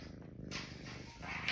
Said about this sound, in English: And hear how much he's purring.